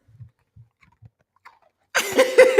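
A dog at a rescue eats a treat, with a few quiet soft chews followed by louder, close crunching bites near the end.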